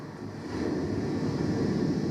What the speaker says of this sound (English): That sound you hear is the sea.